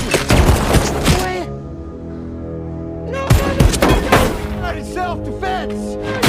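Bursts of rapid gunfire in a film shootout, sharp cracks clustered loudly at the start, a ringing pause, then another volley of close shots, with tense voices over the action.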